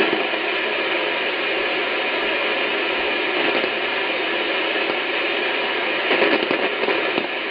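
Crackling static bursts and steady hiss from an Icom IC-9700 radio receiving in AM mode with the noise blanker off during a thunderstorm, loud and continuous with denser crashes near the end.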